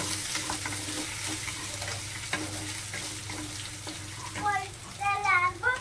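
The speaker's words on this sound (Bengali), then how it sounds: "একটু দেওয়ার পরে নড়িয়ে একটা কম করে ভেজে দিলাম" Ginger and garlic stirred and frying in a pan while dried fish is cooked at home: a steady sizzle with scraping stirs and a watery hiss. Brief squeaky scrapes come near the end, close and moderately loud.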